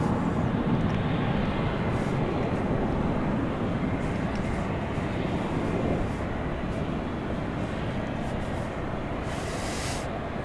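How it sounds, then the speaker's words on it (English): A four-engine Boeing 747 rolls for takeoff on a runway at DFW Airport at night, producing a broad, steady roar that holds fairly constant at a moderate distance with no talk. "we should get a 4-engine takeoff here for you"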